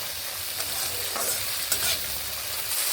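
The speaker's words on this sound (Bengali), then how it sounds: "বিনসগুলোকে এইভাবে নেড়ে একটুখানি ঢাকা দিয়েই ভেজে নেব" Green beans stir-fried in a pan, with a steady broadband sizzle and scraping stirs over about three seconds, close and alone with no talk.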